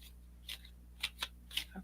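Tarot cards are shuffled by hand in a few separate, quick papery riffles and snaps, spaced irregularly over a low background hum, close and fairly faint.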